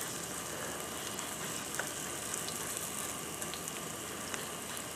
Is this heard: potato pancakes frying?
yes